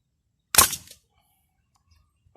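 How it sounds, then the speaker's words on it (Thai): A single sharp gunshot fired at Carabao bottle caps from 10 metres, loud and close with a short decaying tail, followed by near silence and faint handling noises. "ยิงทิ้งไปก่อนนะผมอันนี้นี่ทิ้งก่อนเลย"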